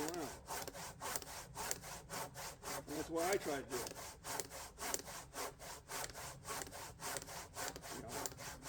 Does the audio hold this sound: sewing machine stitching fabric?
no